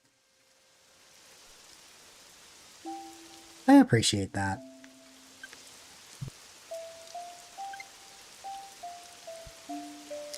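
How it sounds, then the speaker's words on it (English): Steady rain falling outside, a soft continuous hiss of drops beneath occasional speech and a string of short chime-like tones. "Oh hey, it's raining again."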